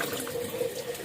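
Water pours steadily from a tap into a filling bath, a continuous close rushing splash with no pauses, alone and fairly loud.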